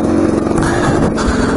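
A motorcycle engine during piston break-in pulls hard under acceleration while riding uphill, a loud close droning roar with rough mechanical texture.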